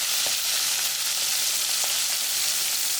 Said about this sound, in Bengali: ভালো করে মাছগুলোকে ভেজে দিতে হবে।